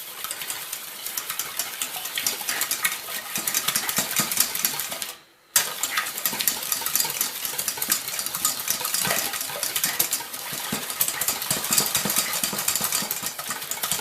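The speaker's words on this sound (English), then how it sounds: "And now we got to go ahead and whisk this." A whisk beating a hot-sauce mixture for coating pork chops, a dense rapid clicking and scraping against the bowl that runs steadily, breaks off briefly near the middle, then resumes at the same close, busy pace with no talking.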